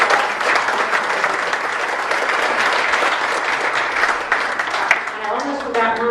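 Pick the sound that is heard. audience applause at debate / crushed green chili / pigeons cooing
audience applause at debate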